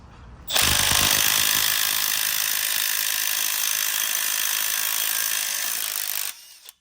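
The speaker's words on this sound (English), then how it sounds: "this one has a larger anvil, and that might be what we need here to get us across the finish line" Larger-anvil impact wrench working on bolts of a Ford 3.0 engine timing cover: a loud, continuous high-pitched rattling hammer of the tool running steadily for about six seconds, close to the listener and without talk.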